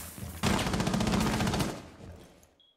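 A burst of rapid automatic gunfire in the tactical shooter Rainbow Six Siege, close and loud for over a second, then trailing off into a fading echo.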